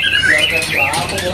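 At a bird market kiosk, cucak ijo birds let out close, loud squawking whistles that warble up and down over faint background chatter.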